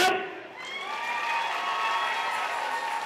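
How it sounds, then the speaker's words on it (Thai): A political rally crowd breaks into applause and cheering, a broad wash of clapping with scattered shouts that swells and holds steady after a brief voice at the start. "ปรบมือหน่อยครับ"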